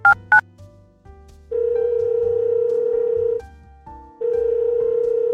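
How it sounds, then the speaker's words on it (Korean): A landline telephone call being placed: two short tones open, then a steady ringback tone plays in two long stretches separated by a brief gap, clear and alone with no voices. "용기를 내어 전화를 걸었다"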